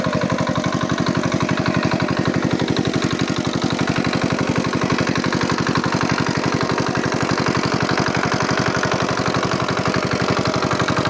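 A motorcycle engine idles nearby in a rapid, even putter that runs loud and unbroken throughout, with no voices.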